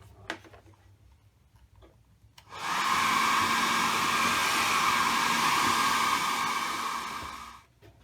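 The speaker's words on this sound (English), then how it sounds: "I'll whack the hairdryer back on in there and carry on" A hair dryer switches on and blows with a steady, loud whooshing roar for about five seconds into a Toyota Celica headlight to clear condensation, then cuts off, after a few faint ticks and clicks.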